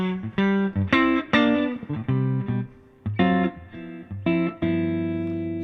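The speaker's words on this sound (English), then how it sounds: "So here's the neck pickup, all clean and juicy." Clean electric guitar through the neck pickup, played as a series of plucked notes and chords with ringing sustain, some short gaps between phrases, moderately loud and alone with no talking.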